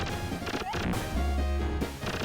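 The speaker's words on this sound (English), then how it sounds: "It's gonna shoot these windows here, and the shards of glass deals 2 damage" Window glass smashes in the Animaniacs video game, a busy crash and shatter layered over steady game music and effects, with a short descending tone partway through and a low rumble near the end.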